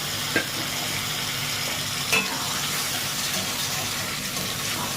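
Water used to rinse spices is poured into frying masala for a prawn and pointed gourd curry. It makes a loud, steady hiss with a couple of brief clanks from the pan.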